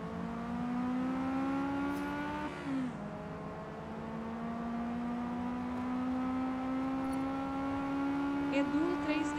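A race car engine in Forza Motorsport 2023 drones with a steady harmonic whine, dipping in pitch briefly early on before settling back into a sustained, close, even tone.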